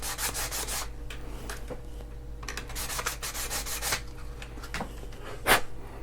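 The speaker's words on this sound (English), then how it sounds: "I'm just going to use a little bit of sandpaper." Sandpaper rubs steadily back and forth over scrap pieces of used styrene plastic, a close, continuous dry scratching with quick strokes and no talk.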